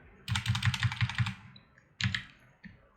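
Computer keys clatter in a quick burst of about six crisp taps, followed by a pause and two more isolated keystrokes, close and clear.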